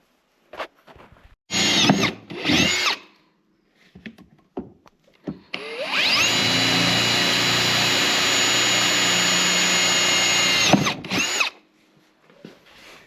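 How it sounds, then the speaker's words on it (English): A power drill bores quarter-inch holes through a new Lynx snowmobile front bumper. Two short whirring bursts come first, followed by a long, loud, steady drilling run with small clicks and handling noises between them. "just drilled the holes in the new bumper"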